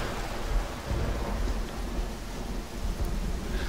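Thunder rumbles over steady heavy rain during a lightning storm in a video game level with a lightning strike on a tower top, a continuous loud wash of rain with deep low rolls throughout and no voices.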